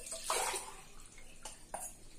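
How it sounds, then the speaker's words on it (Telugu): Two glasses of water are poured into lentils for soaking in a kitchen, a short close splashing pour followed by a few quieter trickles and splashes, with no talking. "ఈ పప్పులోకి 2 గ్లాసులు నీళ్లు పోసి పెట్టుకుంటున్నానండి"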